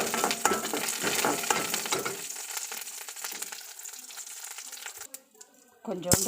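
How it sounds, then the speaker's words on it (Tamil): Curry leaves sautéing in hot oil for a carrot poriyal, a loud crackling sizzle at first that thins out midway, with stirring scrapes and a brief louder burst near the end. "ரெண்டு கொத்து கருவேப்பிலையை அதில் போட்டு நல்லா வதக்கிக்குங்க"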